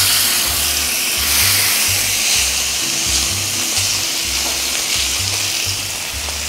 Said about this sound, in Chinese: 好啦，我哋燒到佢都幾熱嘅要，然後咧，我哋就將個牛扒擺落去啦。